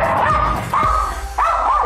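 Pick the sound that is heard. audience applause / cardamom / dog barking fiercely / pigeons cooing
dog barking fiercely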